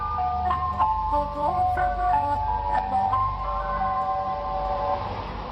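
An ice cream truck, actually a white van creeping slowly through a neighborhood, plays its warbling music-box jingle, a wavering melody of bright tones repeating over a low engine rumble, fairly close and alone.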